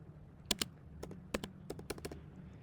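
Quiet typing on a computer keyboard while writing code: a dozen or so crisp, irregular keystrokes, some in quick pairs, over a faint room hum.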